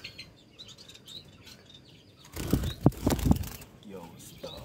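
A pair of albino Bengalese finches chirps with short, thin tweets, faint at first and then a burst of louder calls close by, while someone talks.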